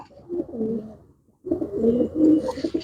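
Pigeons coo in two soft, throaty bursts close by, a short pause between them, with no talk over the calls.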